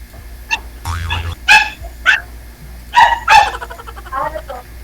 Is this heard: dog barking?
yes